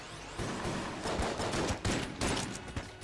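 AK-47 gunfire in the video game Enter the Gungeon, rapid bursts of sharp automatic shots with short gaps between volleys, fairly quiet and with no voices.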